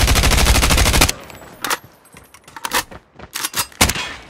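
Gunfire in the mobile shooter Call of Duty Mobile: a loud sustained automatic burst opens, then gives way to scattered single shots and short cracks, near and punchy, with no talk over it.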